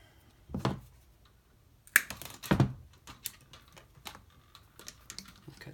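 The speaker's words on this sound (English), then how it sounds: "we're going to cut 14-inch and 18-inch wires, 3 of each length" Wire cutters snip through spark plug wires being cut to length for a DIY coil-on-plug kit on a Mitsubishi Lancer Evo, a few sharp close clicks and snaps with quiet handling noise between them.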